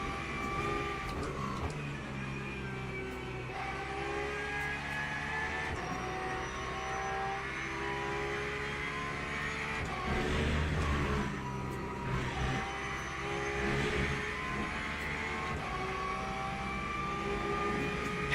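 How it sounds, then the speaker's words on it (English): A Porsche race car engine in a video game Le Mans race roars continuously, its pitch rising and falling as it revs through gears, loud and close throughout. "Look at the Porsche, listen to the Porsche."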